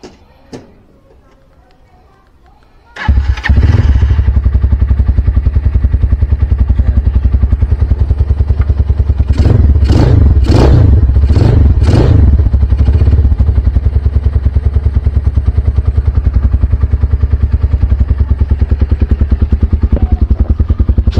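A Motorstar Z200X motorcycle with a Yoshimura muffler starts after a quiet moment, then idles loud and close with a steady throbbing note, and a few quick throttle blips rise and fall near the middle.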